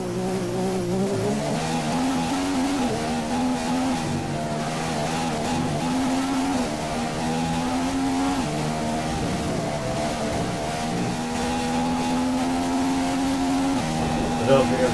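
A Formula 1 car engine drones steadily in the F1 2015 video game during qualifying at the Australian circuit, low on fuel and running oddly, its pitch wavering and dipping over fifteen seconds while a voice talks over it.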